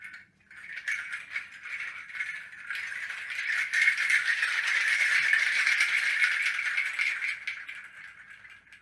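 A hand-held shaker rattled continuously by hand, building from softer bursts to a louder, denser sustained shake in the middle before easing slightly, close up with no voices.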